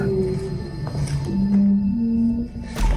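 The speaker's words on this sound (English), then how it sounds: "they hear what almost sounds like a loud wailing moan from somewhere very close by" A loud wailing moan comes from somewhere very close by at night, a drawn-out tonal cry that rises and holds over a rumbling background, followed by a brief burst of noise at the end.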